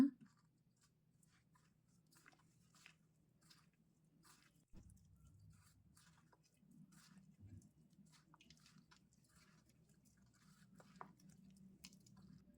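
Leftover rice being kneaded by hand with rice flour into a vada dough, giving soft, close, intermittent squishing and sticky slapping sounds in an otherwise quiet kitchen.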